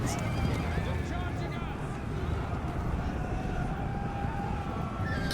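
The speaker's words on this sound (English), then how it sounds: "Drive the horses! Kick your steeds! Drive the horses!" Cavalry horses whinnying and neighing amid hoof clatter in a medieval battle video game, set against a dense, steady wash of battle noise with game voices speaking over it.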